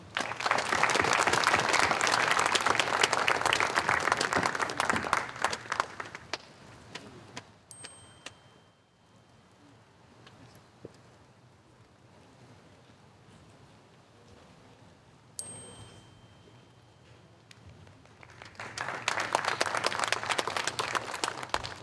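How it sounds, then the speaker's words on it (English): Applause from a school audience at an 8th grade graduation ceremony, loud sustained clapping at the start that fades to a quiet room with a few scattered claps, then swells again into full applause at the end. "please give a huge round of applause for each graduate as their name is called"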